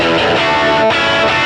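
An electric guitar played through an Axe-Fx processor dialed to a vintage rock amp tone rings out as a brief, loud distorted chord with sustained overtones and a quick break near the end.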